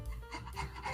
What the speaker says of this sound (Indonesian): jadi harus tetap digergaji seperti ini